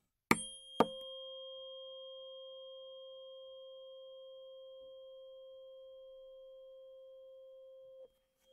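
A test tone played through an aluminium-dome tweeter, its steady pitch carrying stacked harmonic distortion overtones; after two sharp clicks, one sustained tone holds for about seven seconds, then stops abruptly.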